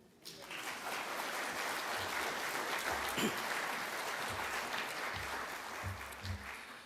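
An audience at a legal chambers gathering claps in welcome for a newly appointed judge, a steady, fairly soft round of applause with faint low voices beneath it.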